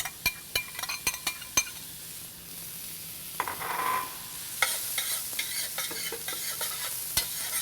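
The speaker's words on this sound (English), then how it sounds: "And when that oil is hot, and I can see that it's hot, it's kind of creeping around the pan, I'm going to add the mushrooms." Mushrooms hit hot olive oil in a pan and start a bright, steady sizzle that keeps going after a few sharp clinks of a utensil on the pan, close and fairly loud, with no talking.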